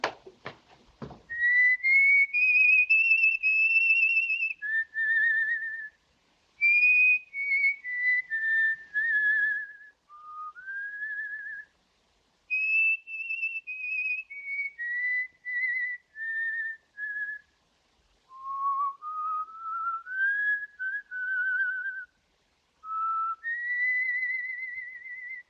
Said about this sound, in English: I wish he put his whistle out.